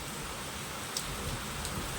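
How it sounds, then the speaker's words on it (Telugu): Steady rain hisses evenly throughout, a dense wash of drops falling on surfaces, with no voices. "చూడండి ఎంత వర్షం వస్తుందో"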